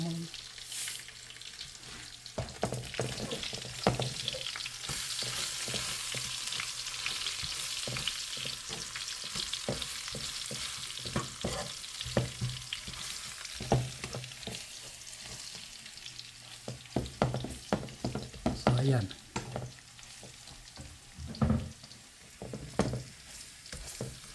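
Garlic sautés in oil in a pan, a steady sizzle running the whole time while a utensil scrapes and stirs in irregular clatters that grow busier near the end.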